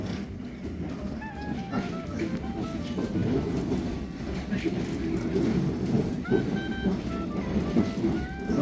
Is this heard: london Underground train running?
yes